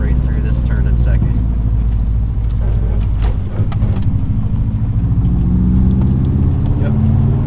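A race car's mid-pitched engine pulls hard through a turn in second gear, droning loudly and steadily from close by with a rising rev.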